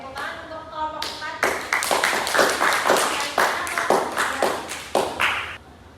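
A small classroom group claps in applause, a burst of sharp, uneven hand claps close by that swells and then trails off over several seconds, with a voice speaking briefly at the start.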